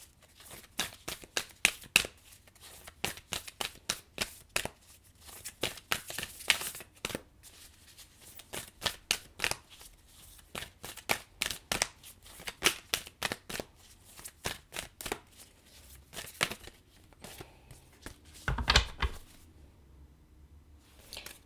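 A deck of tarot cards is shuffled over and over, with quiet riffling flutters and papery snaps coming in uneven bursts, close and soft, with brief pauses between rounds.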